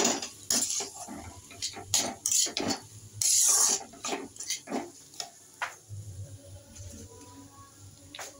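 A spoon stirs ground Kashmiri chilli into ghugni in a pan, making repeated metallic clinks and scrapes in irregular bursts, with one longer harsh scrape near the middle, close and clear and without talk.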